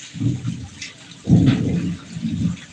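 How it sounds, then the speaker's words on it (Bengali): A heavy thunderstorm over Sherpur during flooding, with deep rolling thunder rumbling in close, loud bursts over a steady wash of rain. "আকাশের আবহাওয়া ভালো না অনেক বৃষ্টিপাত হচ্ছে তুফান বিজলি চমকাচ্ছে"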